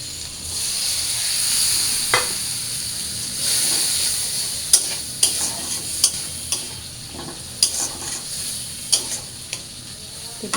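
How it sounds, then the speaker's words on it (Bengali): Spices sizzle as they hit the pan with fried dried fish and onions, with steady frying hiss throughout and a series of sharp spatula scrapes and clacks as the mixture is stirred, close and fairly loud, no talking. "এবার আমি মশলাগুলো দিয়ে দিই।"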